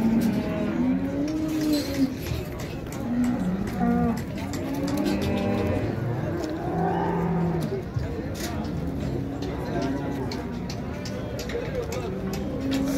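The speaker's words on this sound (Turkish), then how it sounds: "İnekler." Cattle at a crowded livestock market in Şarkışla, Turkey, moo repeatedly, some loud and near, others farther off, over a constant crowd murmur with people talking.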